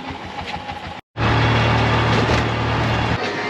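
Tuk-tuk engine idling nearby with a steady low puttering drone that starts abruptly after a brief gap, loud and continuous, then eases off at the end.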